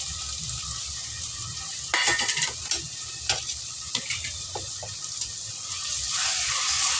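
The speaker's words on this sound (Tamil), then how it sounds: "ஏற்கனவே நல்லா எண்ணெயில் வதங்கிருக்கு, இருந்தாலும் ஒரு வாட்டி வதக்கிக்குவோம்." Ground sambar onion, tomato, pepper and cumin paste sizzles in hot oil for a salna gravy while a spoon stirs and scrapes the pan. A constant loud frying hiss runs underneath.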